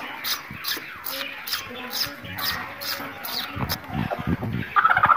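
A hen sitting on eggs gives a run of soft, repeated clucks in a fairly even rhythm, close by, with faint scuffling around it.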